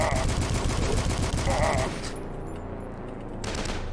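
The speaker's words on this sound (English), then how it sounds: "I hear some gunshots" Bursts of gunfire crackle in the video game DUSK, heavy for the first two seconds, then fading into a quieter rumble with another burst near the end.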